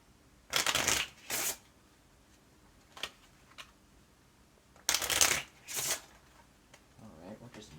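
Cards Against Humanity cards being shuffled and drawn, close and crisp, in two pairs of riffling bursts with a few light taps and clicks between them.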